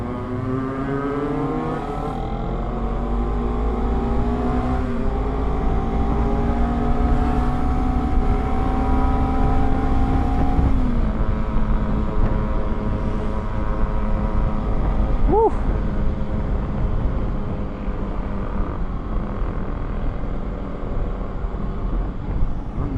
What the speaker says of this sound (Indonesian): Geber-geber gak jelas.